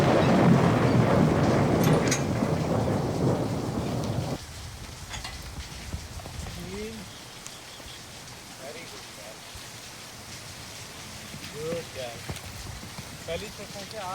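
Steady rain hiss pours down outdoors during a horse riding session, loud for about four seconds, then drops away to a quieter background with a few faint chirps and sounds.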